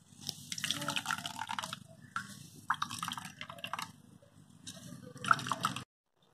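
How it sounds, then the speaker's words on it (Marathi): Ground coconut paste for solkadi is squeezed and strained, releasing liquid in several wet squishing bursts and drips, fairly close and quiet, with short pauses between them and silence at the end. "नारळाचं वाटण जे केलेलं होतं ते मी नीट व्यवस्थित असं गाळून घेत आहे."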